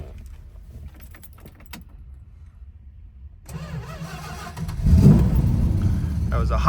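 A 1969 Dodge Coronet R/T with a 440 V8 starts hot on a warm day: the starter cranks briefly, then the engine catches and settles into a loud, rumbling idle close by.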